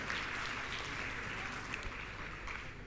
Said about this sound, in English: So a big round of applause for him once again.